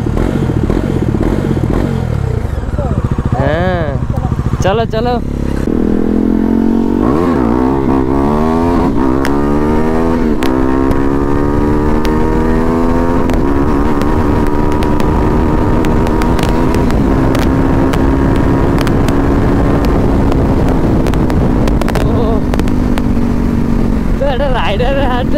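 A Bajaj Dominar motorcycle on its stock exhaust while riding, a loud continuous engine drone that climbs in pitch as it speeds up, with wind roar and people talking over it.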